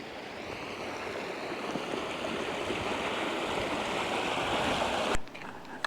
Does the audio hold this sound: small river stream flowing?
yes